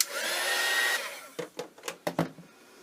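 A hair dryer blows steadily on paint on a gel print for about a second, then cuts off, followed by several soft clicks and handling knocks.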